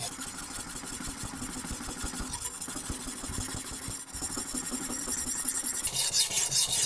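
A German knife tip is worked over a whetstone in a rounded motion, giving a continuous, close raspy scraping of steel on stone that grows slightly louder and brighter toward the end.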